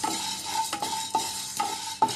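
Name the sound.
pepper and fenugreek frying in a pan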